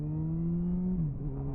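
A motorcycle fitted with a slip-on exhaust rather than a full system idles with a deep, steady throb that dips briefly in pitch before settling again, loud and close, with no talking.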